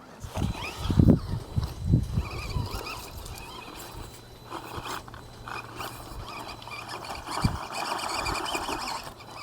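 An FMS FCX18 Chevy K10 RC crawler truck grinds along in second gear over a rough challenge course, its small electric motor and drivetrain whirring and straining unevenly with clattering bumps up close, with no voices.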